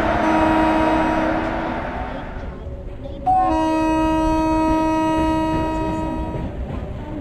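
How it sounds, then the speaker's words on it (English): A Rajdhani Express passenger train rolls into a station platform, a long horn blast sounding loudly over the rumble of the wagons, with a second sustained horn note following after a brief pause. "12314 New Delhi Sialdah Rajdhani Express from New Delhi to Sialdah via Gaya Dhanbad is arriving shortly on platform number"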